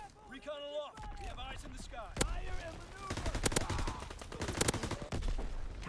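Rapid gunfire crackles through a Call of Duty WWII multiplayer match: dense bursts of sharp shots stack up mid-clip while someone talks over the action.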